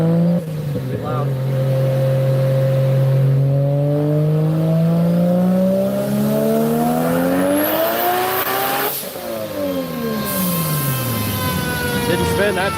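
A car engine revving hard as it accelerates and tries to spin its tires, rising in pitch, dropping at a gear change and climbing again, loud and close outdoors, with voices briefly underneath.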